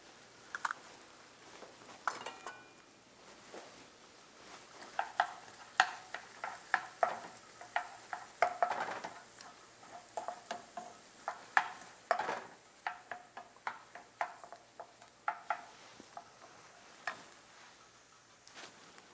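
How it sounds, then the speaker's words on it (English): Bell pepper, celery and onions sautéing in a frying pan, with a soft sizzle under frequent sharp ticks and scrapes of a utensil stirring against the pan, fairly quiet and without voices. "The bell pepper, celery, and onions. We'll saute that down"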